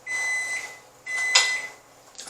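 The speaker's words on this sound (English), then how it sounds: "That's my microwave." A kitchen microwave oven hums in short stretches with a steady high beep tone, followed by a sharper click or door sound near the end, close and fairly loud with no talking.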